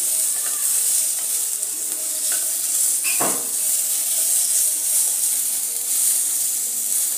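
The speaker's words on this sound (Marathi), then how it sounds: "हा आपण कांदा सतत परतत याला थोडेसे गरम होऊन द्यायचे आहे" Chopped onion sautés in a hot pan for restaurant-style paneer, a loud continuous sizzle with a spatula scrape and stir near the middle.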